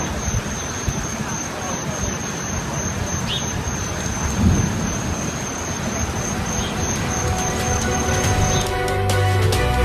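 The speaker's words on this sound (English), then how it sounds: "It's just crazy wind and rain from Typhoon Sodalor as it was making direct landfall in Taiwan." Typhoon Soudelor lashes Taiwan at landfall with dense, continuous rain and roaring wind, a heavy hiss that builds slightly toward the end, with a faint high-pitched tone running through it.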